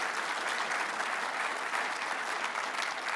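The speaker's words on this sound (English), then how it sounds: "That deserves applause." Steady, fairly distant audience applause fills the whole stretch evenly, a dense wash of many hands clapping with no talk over it.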